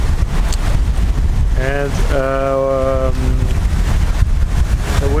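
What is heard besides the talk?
wind blowing on a sailboat at sea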